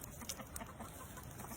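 Soft, faint clucking from chickens and a rooster, a few quiet scattered calls over a hushed outdoor background.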